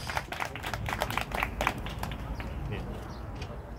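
An outdoor audience at a children's event claps in scattered, uneven bursts that thin out, mixed with voices nearby.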